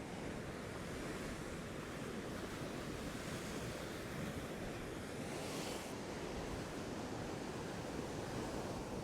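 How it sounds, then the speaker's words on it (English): Shallow surf breaking into a frothing mass of whitewater along a shore where fish are caught, a steady, loud, continuous wash with wind noise across the microphone and no talking. "it's just a frothing mass of whitewater"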